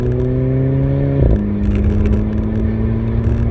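A Volkswagen Golf GTI MkV's engine hums steadily from inside the car as it drives, its tone rising smoothly, then dipping briefly and settling into a lower steady drone.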